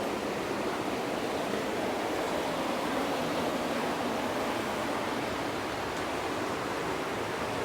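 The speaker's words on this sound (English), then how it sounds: "A little bit of a waterfall." A small waterfall in New Mexico's Catwalk Recreation Area pours with a steady, even hiss of falling water, close and constant throughout.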